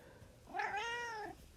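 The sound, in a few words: pet cat meowing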